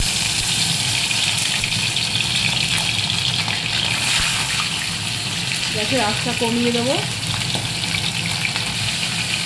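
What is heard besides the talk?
fish frying in hot oil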